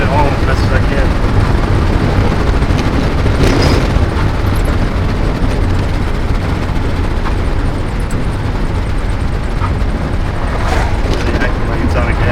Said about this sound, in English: Really acting like it's out of gas. It's bucking and surging.